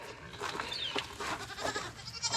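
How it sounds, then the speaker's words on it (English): Goats on a farm, kept in a small pen and playground area, bleating repeatedly at moderate distance, several overlapping calls with a busy outdoor background. "Oh yeah, we've got some goats in here."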